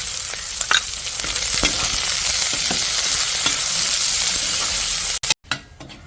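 Dried red chillies, curry leaves and shallots fry in hot oil for a Kerala-style bitter gourd pachadi, giving a loud, continuous sizzle with occasional stirring clinks before the sound briefly cuts out near the end.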